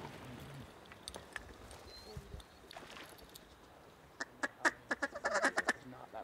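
Ducks quack in a quick series of loud calls, close by on a secluded wooded pond during a duck hunt in Washington, after quieter rustling and a few scattered clicks.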